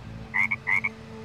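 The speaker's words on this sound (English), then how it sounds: "Cool, a frog!" A frog in the adventure game The Journey Down gives two quick double-note croaks, close and clear, above a quiet low hum with no speech.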